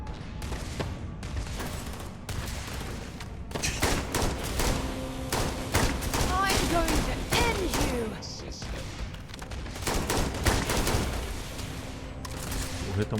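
Rifle gunfire in Starfield rings out in repeated bursts of close shots with thudding impacts, starting and stopping in clusters, while a player's voice is heard faintly between volleys.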